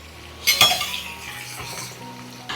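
Fried papaya pieces scooped out of hot oil in a pan, with a sharp metallic clink of a ladle against the pan, a soft scraping stir, and a faint sizzle underneath.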